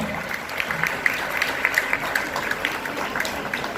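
Audience clapping at a Bhim Sankalp Diwas play in Morna, Noida, a moderate, steady patter of many hands with faint high tones and crowd murmur mixed in.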